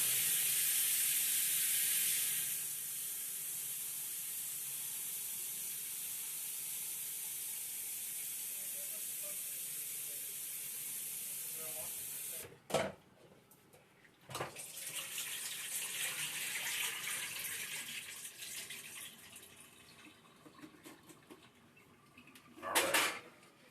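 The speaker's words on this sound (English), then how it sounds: "Fill up with water again, and then I'm going to drain it a second time." Tap water runs steadily into a pot of starchy rice for about twelve seconds, then stops with a few clanks and rattles as the water is drained off.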